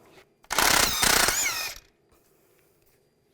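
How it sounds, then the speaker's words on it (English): A 21mm socket on a ratchet or impact tool loosens the tie rod end nut on a 2002-2009 Chevy Trailblazer, a loud buzzing mechanical burst of about 1.3 seconds, then near quiet. "Now we're going to take this nut off for the tie rod end."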